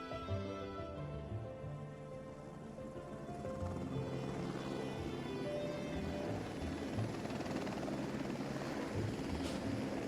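A helicopter's steady rotor chop and engine drone hold throughout, thickening slightly about halfway and staying fairly close and loud with no talk over it.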